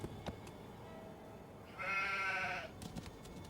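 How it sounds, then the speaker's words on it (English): A single close sheep bleat in the Nancy Drew: The Haunting of Castle Malloy video game, wavering for under a second against a quiet ambient background, with no talking. "Little sheep."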